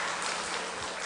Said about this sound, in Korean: 우리 박수 한번 힘차게 다시 한번